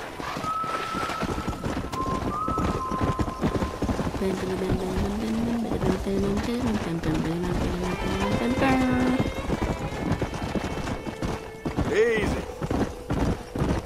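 Horse hooves clip-clopping steadily in the Red Dead Redemption video game on Xbox One, with whinnies and game music, as someone speaks briefly over the ride.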